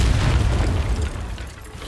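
A Confringo blasting spell exploding in Hogwarts Legacy, a loud deep boom with a rumbling low roar that fades over under two seconds.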